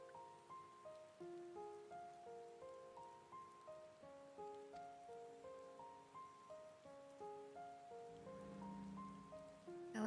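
Steady rain hisses through a scene in the video game Final Fantasy XIV: Shadowbringers, falling continuously beneath a soft, slow melodic score that carries the full ten seconds without any voices.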